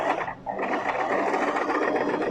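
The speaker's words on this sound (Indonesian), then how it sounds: "kita lanjutkan menjahit sampai di ujung yang sebelahnya" A sewing machine stitches along a men's shirt collar, running steadily for a couple of seconds with a dense, even mechanical whir and only a brief dip in speed near the start.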